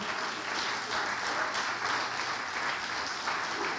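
A church congregation applauds steadily and strongly throughout, a dense wash of many hands clapping at once with no break.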